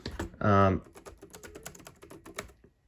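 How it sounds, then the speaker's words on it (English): Laptop computer keyboard typing, a steady patter of light key clicks across a few seconds, with a brief voiced sound near the start and the clicks continuing underneath at moderate-low level. "The keyboard all looks really nice here."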